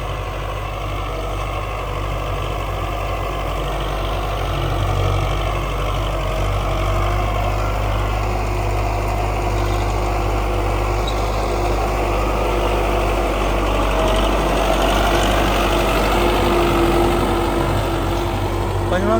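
A tractor engine drones steadily while the tractor is driven in fifth gear on a wheat farm, with a constant low rumble and hum throughout and no speech.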